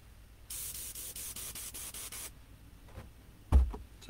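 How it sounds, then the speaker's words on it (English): An airbrush spraying off paint overspray into a cardboard box lined with old racing carpet, painting an RC body shell: a steady hiss with rapid trigger pulses lasting nearly two seconds, followed by a few soft knocks and a thump. "So that's where I spray off all my overspray."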